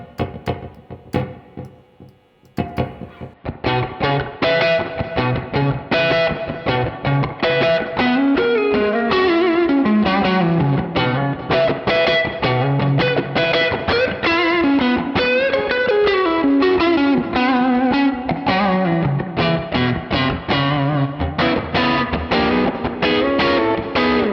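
Electric guitar through a Neural DSP John Mayer amp plugin, played with distortion and a short slapback echo doubling each note, with spring reverb, loud and continuous, no voices.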